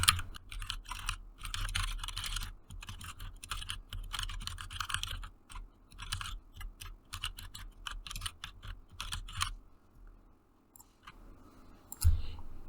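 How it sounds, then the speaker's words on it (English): Someone types on a computer keyboard in a quiet room, with dense bursts of key clicks separated by short pauses and a final louder tap. "And I could just type the information here."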